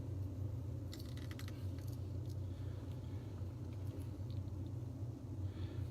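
A truck engine idles in the background as a steady low droning rumble, constant and moderately loud throughout, with a few brief light clicks and jangles over it.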